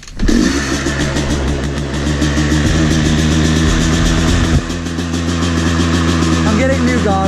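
Yamaha YZ 250 two-stroke dirt bike starting up and running with the choke on, a loud, close, buzzing idle with uneven revs that rise and fall in pitch, then settle before blipping again, with a voice speaking briefly over it.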